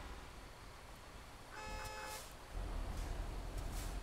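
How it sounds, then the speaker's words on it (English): In Euro Truck Simulator 2, a car horn toots in one short tonal honk over a constant engine drone, followed by louder low rumble, without talk. "What's honking at me?"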